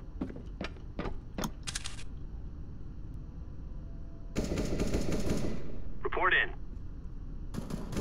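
Gunfire in the video game Counter-Strike: Global Offensive during a Wingman match: a few sharp separate shots, then a dense burst of automatic fire, and another short burst near the end, moderately loud over low background.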